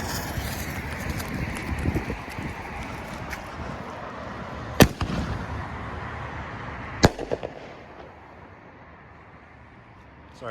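Christmas fireworks near a freeway: two sharp, loud bangs crack out a couple of seconds apart over a constant roar of distant traffic, with a few smaller pops and crackles after them.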